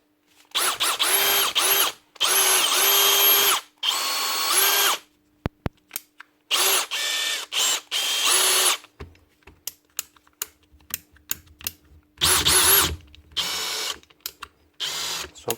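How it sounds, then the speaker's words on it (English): Bosch cordless drill with a faulty change lever that does not engage, running in several loud, close, high-pitched whirring bursts of one to two seconds, separated by clicks, trigger rattles and silences; no talking. "Right, Bosch cordless drill."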